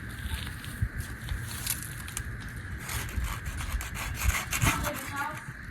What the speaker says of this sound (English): Keep sanding on it